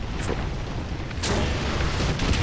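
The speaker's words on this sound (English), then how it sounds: "I'm shooting at this Panzer IV C" A US rank 1 tank cannon in War Thunder Ground Forces fires at a Panzer IV C, giving a loud booming blast partway through amid constant engine rumble.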